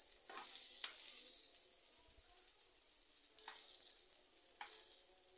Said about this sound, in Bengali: এভাবে ফুলকপিটাকেও ভেজে নিচ্ছি